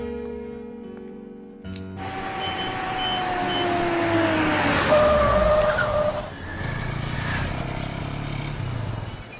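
A new car pulls away with an engine note that rises and falls and a tyre squeal as it drives off, set over movie background music with steady tones.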